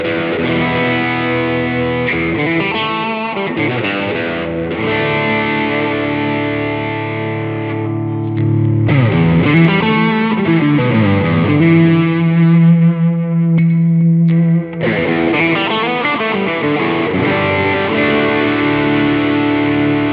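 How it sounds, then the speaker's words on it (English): Electric guitar runs through an amp and effects pedals, heavily distorted with echo, chorus and reverb, sustained chords and swelling notes played loud and alone for about twenty seconds. "First, I'll let you hear the amp,"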